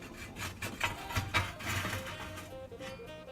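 An ash and coal shovel is laid in a caddy and dragged across a pizza oven deck, giving a series of rough scraping rubs, moderately quiet and close.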